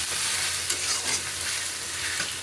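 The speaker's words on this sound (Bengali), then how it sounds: "আর আলু ভাজা হচ্ছে পেঁয়াজ দিয়ে মাংসের মধ্যে।" Potatoes and onions fry with goat meat in a pan, giving a loud, continuous sizzle with stirring scrapes close up.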